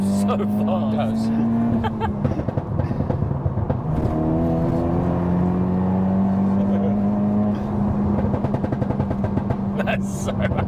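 A front-wheel-drive FK8 Honda Civic Type R tuned to 420BHP drones loudly and continuously from inside the cabin, engine pitch climbing in steps through the gears while people talk.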